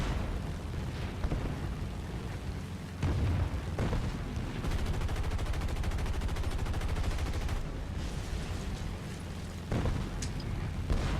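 Rapid .50-caliber machine gun bursts from an F4F-3 Wildcat fighter strafing ground targets in War Thunder, loud sustained rattling fire with brief pauses and heavy low rumble throughout.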